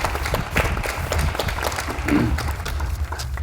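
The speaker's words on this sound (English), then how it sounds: "Let's give them a round of applause for their services." Audience at a community college commencement applauding the trustees, a continuous moderate spatter of clapping with some crowd murmur and low rumble.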